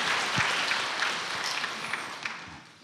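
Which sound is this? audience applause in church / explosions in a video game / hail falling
audience applause in church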